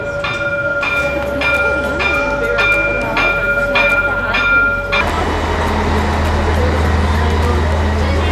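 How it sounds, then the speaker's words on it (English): A train's loud tonal hum and repeated clanking fill a station near Puebla, Mexico, then shift to a lower rumble as it moves, with voices faintly mixed in. "All right, we're in the station, waiting for the train now."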